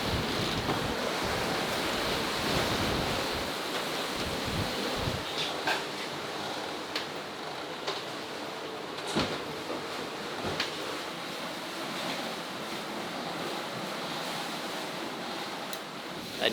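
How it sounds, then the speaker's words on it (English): Steady wind and surging waves at sea, heard aboard a sailboat in the doldrums, with a continuous broadband rush, gusts of wind buffeting the microphone and occasional sharp splashes against the hull. "The wind has picked up. The waves have definitely picked up."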